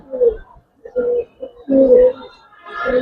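Giribaz and silver pigeons coo close by in a series of soft, throaty, rolling calls, four or five phrases with brief gaps between them.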